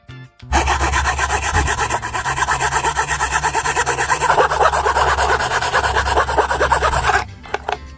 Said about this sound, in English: cut the end of the lamp cover.